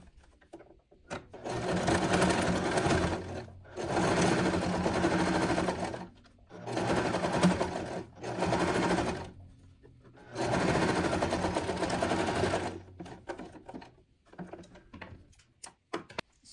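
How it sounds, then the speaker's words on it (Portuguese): Sewing machine stitching fabric and backstitching a seam, loud whirring runs of two to three seconds broken by short pauses, close and steady with no voices. "Agora eu volto pro ponto A para rebater a minha costura."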